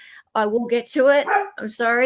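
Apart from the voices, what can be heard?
dog barking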